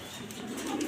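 A female Afsan grizzle pigeon in heat gives a brief, soft, low coo, heard close but quiet and alone.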